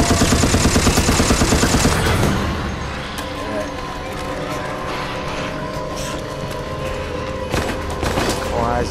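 Rapid gunfire from shotgun and assault rifle in Resident Evil: Operation Raccoon City, a fast rattling burst at the start, then dense continuous combat noise with occasional sharper hits.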